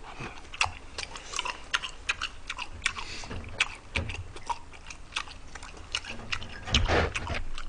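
People eating a mukbang meal of tenderloin steak, sweet and sour pork and seafood jjamppong, giving close, irregular bites and crunchy chewing with small clicks and no talking.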